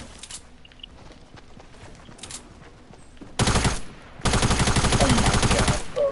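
Gunfire in a PlayStation 4 shooting game, two loud sustained bursts of rapid automatic fire after quieter background sounds and a few softer pops.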